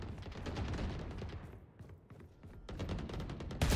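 Rapid bursts of Valorant gunfire crackle close and loud, dipping into a brief lull midway before another dense volley and a sharp final shot, with no voices.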